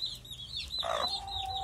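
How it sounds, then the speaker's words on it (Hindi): A hen clucks repeatedly at close range in a poultry setting with young chicks, short rising calls over low background rumble. "ये मुर्गी,"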